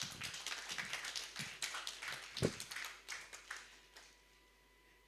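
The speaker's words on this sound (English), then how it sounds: "A round of applause for her." At an HR conference, audience members clap in a sparse, uneven burst, a handful of distinct nearby claps that thin out and fade to quiet within a few seconds.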